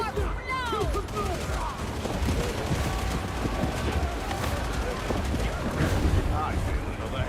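Video game gunfire in rapid, dense bursts over several seconds, loud and close, mixed with an excited voice talking over the shooting.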